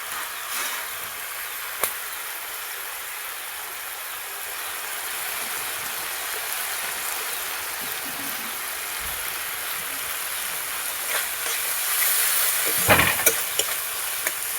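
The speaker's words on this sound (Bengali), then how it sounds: "এখানে মশলাটা কষানো হচ্ছে।" Spice paste of chopped green chilli and tomato sautéing in a pan for a Bengali stuffed aubergine dish, a steady soft sizzle and stir throughout, with a few brief clicks near the end.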